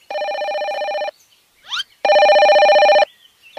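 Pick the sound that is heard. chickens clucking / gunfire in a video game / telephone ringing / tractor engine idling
telephone ringing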